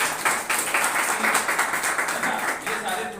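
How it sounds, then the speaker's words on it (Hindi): Audience applause at a business seminar, a dense run of clapping from many hands at steady moderate loudness, with a voice briefly talking over it near the end. "एक बार जोरदार तालियां आपके लिए"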